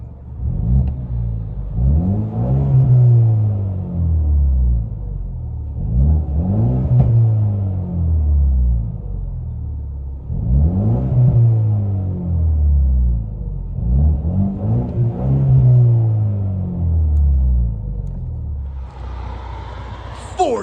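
Inside a 2020 Ford Mustang EcoBoost four-cylinder turbo with a Flowmaster Outlaw cat-back exhaust, the engine revs up and drops back again and again in five loud, rising sweeps, a deep droning rumble heard close from the cabin.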